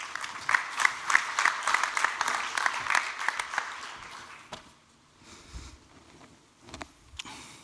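A conference audience applauds after a presentation on cobalt market dynamics: a burst of clapping for about four seconds that fades to a few scattered claps, with a voice faintly underneath.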